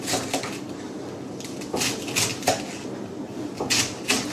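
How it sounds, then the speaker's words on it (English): A knife chops through red cabbage with a handful of dull, irregular crunching strikes spaced a second or so apart over a steady background hiss; no voices. "chopping this red cabbage"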